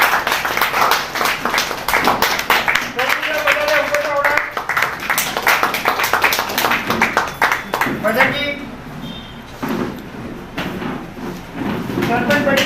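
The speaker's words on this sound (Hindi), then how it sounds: "आप सब जोरदार तालियां बजाकर आगे सम्मान करें।" Audience clapping at a political honouring ceremony for a rural Udaipur assembly candidate, irregular applause mixed with voices and crowd bustle, with speech continuing over it.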